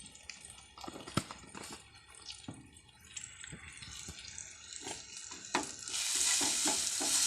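Spices sizzle and fry in a pan for potol dim, pointed parva and egg curry, with repeated scraping stirs throughout and a louder hissing surge near the end as liquid or ingredients hit the hot oil.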